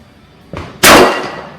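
A Kimber Pro Raptor II pistol fires a single sharp, loud report at a target about 15 metres away, preceded by a softer click or impact and followed by a short decaying ring.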